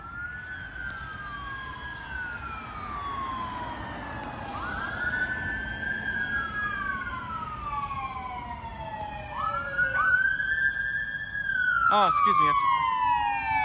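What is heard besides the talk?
siren of passing emergency vehicle, EMS supervisor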